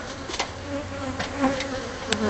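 Bees swarm around a hive exposed in a house soffit, a close, steady buzzing drone with individual insects flying past the microphone.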